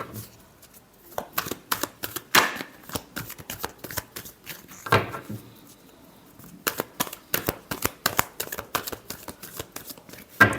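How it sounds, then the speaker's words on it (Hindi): Tarot cards are shuffled by hand in repeated bursts of crisp riffling and flicking, close and fairly quiet, with short pauses between the runs. "last shuffle"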